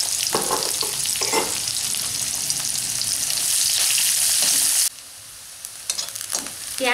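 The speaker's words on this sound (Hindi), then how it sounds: "और हल्का सा ब्राउन होने तक इसे भूनेंगे।" Onions fry in hot oil for a soya vegetable biryani, giving a loud, steady sizzle with stirring scrapes. The sizzle drops abruptly partway through, leaving quieter crackles and utensil sounds.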